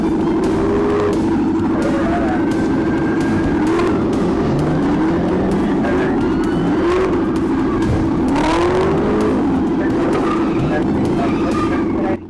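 A Camaro tears away from police at speed, engine roaring and revving close and loud, with rising and falling siren wails over it and a voice talking throughout.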